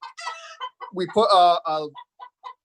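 Chickens clucking inside a backyard coop with a raised roosting area, a few short, close clucks between bursts of a person talking nearby.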